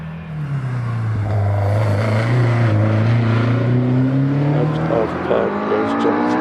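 A Caterham 7 race car launches off the line at a hillclimb, its engine revving hard with rising pitch as it pulls away, while a commentator talks over the loud, close engine note.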